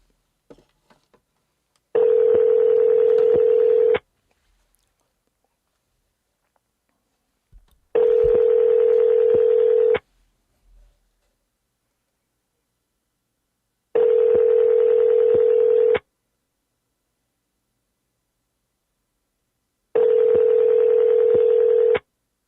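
Repeated tones from a telephone line while placing a cold call, four steady ringback-style beeps about two seconds each with pauses between, alone and without talk.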